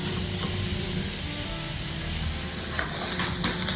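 Meat sautéing in a pan for Bicol express, a steady loud sizzle and frying hiss that runs unbroken, with faint stirring scrapes near the end.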